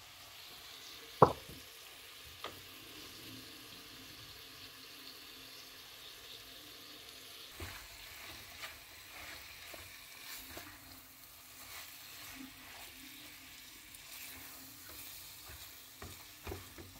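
Meat for haleem being stirred in a pot, soft quiet scraping and a low simmering sizzle with an occasional sharp clink of the spoon, no talking.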